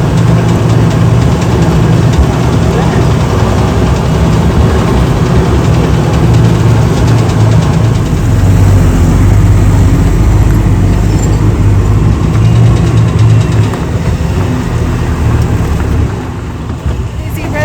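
A safari tour vehicle at Sonoma Serengeti idles with a steady low engine rumble and road noise throughout, close and loud, with people talking over it.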